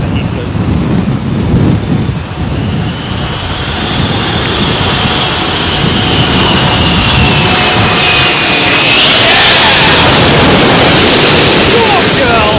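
Freighter aircraft landing in a crosswind at Heathrow Airport, a loud, continuous jet engine roar with heavy wind buffeting that swells toward the end, rising whine audible over the rumble.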